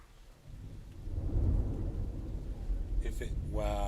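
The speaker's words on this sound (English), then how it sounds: "wow, the thunder though, dude. The thunder. I heard that." Deep rolling thunder rumbles loudly through a storm with rain falling, building and sustaining over several seconds, and a voice cuts in near the end.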